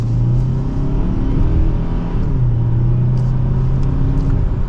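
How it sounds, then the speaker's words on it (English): A 2024 Hyundai Sonata SEL sedan pulls hard in sport mode in second gear, its engine droning loud and steady from inside the cabin with a rising rumble and constant road and tire noise, no voices. "let's go ahead and get the all-new Sonata out on the road. And in sport mode, second gear, here we go."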